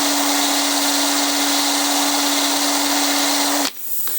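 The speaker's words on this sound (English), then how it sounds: "I'm now going to clean the inside with a copper brush on my drill." A power drill fitted with a copper wire brush whirs steadily, scrubbing the inside of old engine tumblers, with a sustained whine and hiss that runs for several seconds before cutting off abruptly near the end.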